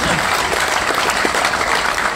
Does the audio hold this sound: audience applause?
yes